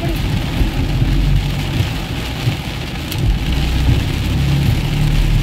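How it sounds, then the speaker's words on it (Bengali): First rain of the year pouring down in Kolkata, a dense, steady wash of rainfall close by with a low rumbling undertone, unbroken for several seconds. "বহুদিনের আকাঙ্ক্ষিত বৃষ্টি, বাপরে।"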